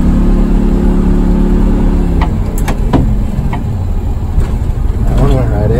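A GM Silversides bus, PD 3751, with its engine droning and revving as it accelerates through the gears, loud and close inside the cabin, while people talk over it.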